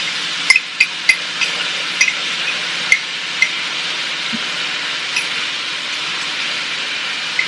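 Sauce going into a hot pan of crispy chicken for rice noodles over low heat, a steady loud sizzle with several sharp metallic taps of a utensil against the pan, close up.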